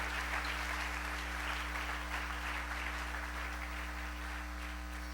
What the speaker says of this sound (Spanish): Denle ese aplauso al Señor